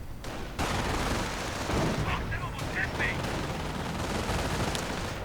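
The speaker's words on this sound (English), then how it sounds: "Volks Grenadiers taking quite some losses to the American MG42" Sustained MG42 machine gun fire rattles through a Company of Heroes battle, a dense roar of rapid shots with brief distant bursts layered over the din.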